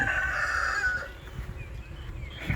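Rooster crowing at a rural pond site, a single fairly faint crow at the start that fades out, followed by quiet outdoor background.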